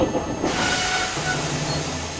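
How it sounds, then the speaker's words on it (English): Steam hisses loudly and steadily from a steam locomotive's safety valve, a broad rushing noise that fills the clip with a faint low rumble from the engine beneath. "Steam began hissing from the safety valve in an alarming way."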